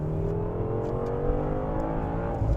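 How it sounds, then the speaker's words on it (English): A 2014 BMW M6 (F13) with turbocharged engine pulls a smooth second-gear roll-on acceleration, its exhaust note steadily rising in pitch, loud and close, with no talking. "Now let's do a little second gear roll on throttle."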